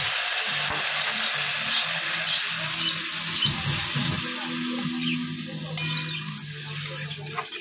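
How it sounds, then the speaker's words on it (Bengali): A little water goes into frying eggplant, beans, green chili and ground ginger-cumin paste, producing a loud continuous sizzle and hiss close by that eases slightly toward the end. "একটু ভাজা ভাজা হয়ে গেলে দিয়ে দেবো অল্প জল।"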